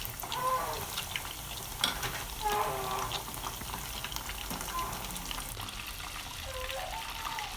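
Stuffed chicken escalopes fry in a pan, giving a low steady sizzle with soft watery bubbling, quiet and close, while a few brief scrapes and clinks come from turning the pieces.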